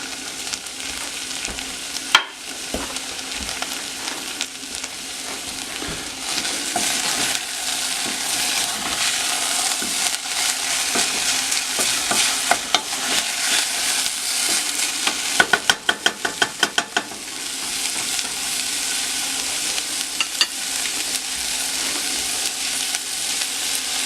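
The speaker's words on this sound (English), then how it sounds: "Now I add the meat. And I might as well add my spices." Meat frying in a pan with added spices for chile verde, a steady close sizzle with scraping stir strokes and occasional clinks throughout, no talk.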